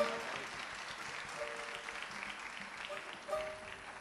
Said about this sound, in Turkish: Bu kadar mı alkış? Kocaman alkışlar hocam hoş geldiniz.